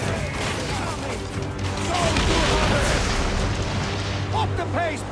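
In Assassin's Creed Origins, a fleet unleashes fire, producing a dense, continuous roar of booming explosions and crashing battle noise. The sound is loud and close, with voices shouting over it.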